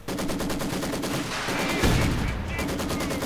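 Video game battle gunfire from a Soviet versus Ostheer World War II tank and infantry match, rapid machine-gun bursts and heavier shots rattling continuously and loudly, with a big blast near the middle.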